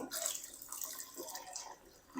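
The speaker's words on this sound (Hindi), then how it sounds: "इसके साथ ही हम पानी शामिल करेंगे और थोड़ा सा" Water is poured into a cleaned bowl while making namkeen dal mash, a gentle splashing trickle close by that fades toward the end.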